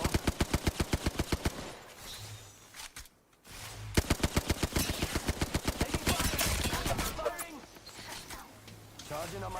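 Video-game gunfire in a ranked match: evenly spaced rapid automatic bursts, loud and close, with a brief lull before firing resumes, while players talk over the shooting.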